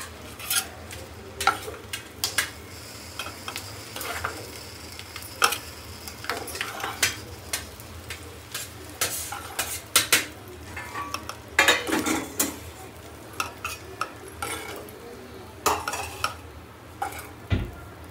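Eggs and masala paste stirred and fried on a hot iron tawa, with continuous close sizzling under repeated scraping and clinking of a spatula against the pan in an irregular rhythm.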